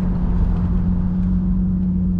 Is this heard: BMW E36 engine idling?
yes